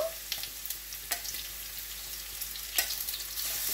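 Garlic, ginger and spring onion whites fry in a cast-iron wok with a steady, close hiss and crackle, broken by a few sharp scrapes or spits.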